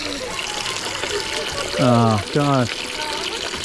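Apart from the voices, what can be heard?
water running out of a water station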